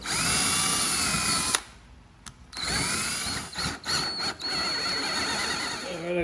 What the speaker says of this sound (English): Try not to drill the outside here